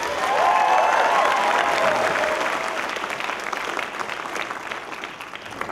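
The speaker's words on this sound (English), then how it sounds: "Please give a big round of applause for Mark Boal." A large audience applauds warmly for screenwriter and producer Mark Boal at a speaking event. The clapping is loud and sustained and slowly fades, with a faint tone over the start.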